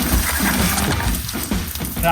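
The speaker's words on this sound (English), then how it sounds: "I can hear the river." A river in dense bush country, reached on a backpacking gold-prospecting trip, sends up a steady, close, broadband rush of flowing water that fills the whole stretch.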